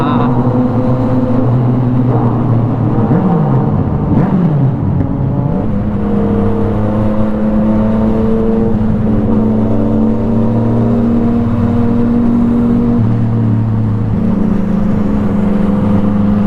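A Yamaha MT-09 motorcycle exhaust droning loud and steady while riding, its tone shifting as the engine revs and eases, with engine noise filling the whole stretch.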